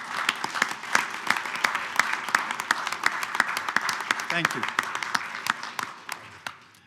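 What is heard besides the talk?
round of applause at a board meeting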